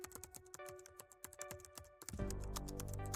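Rapid clicking keystrokes tap out an uneven rhythm on a computer keyboard, close by, before a broad wash of noise swells in near the end.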